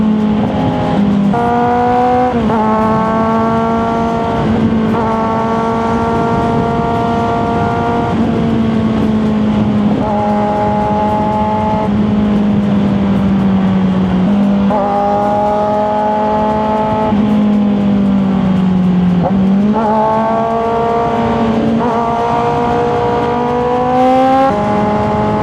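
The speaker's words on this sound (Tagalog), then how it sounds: "Traffic na talaga. It's so traffic." Dense EDSA road traffic heard from a big bike, a steady loud engine drone with shifting harmonic tones as revs rise and fall, continuous with no pauses or talk throughout.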